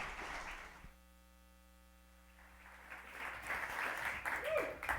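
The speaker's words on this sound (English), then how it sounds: "give a big hand clap to Mr." Audience applause at a TEDx event at Bellarmine University for the next speaker, Todd Smith: a burst of clapping that fades into a hum-filled lull, then rises again as a broad, fairly loud wash of hands toward the end.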